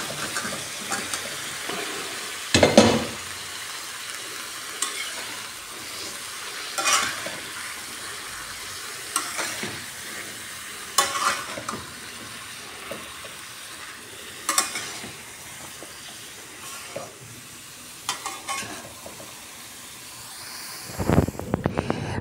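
Vegetables cook in a dried mola fish curry, a continuous hissing sizzle broken by repeated sharp stirring scrapes and clanks against the pot.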